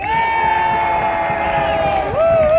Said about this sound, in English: cheer for Sir Christopher de Sonless, ladies and gentlemen, round of applause now